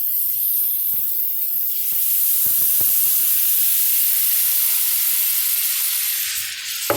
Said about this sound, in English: You're gonna saute that steak just like that.